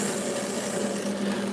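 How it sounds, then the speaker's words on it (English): A core drill grinds steadily through a gemstone, giving a continuous, even rasping whine with no pauses, close and fairly loud, with nobody talking. "Now we finish the drilling."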